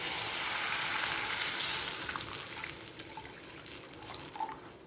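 Water poured into hot ghee tempering for sama khichdi sizzles loudly and hisses at first, then settles into a softer, steady bubbling sizzle with faint crackles near the end.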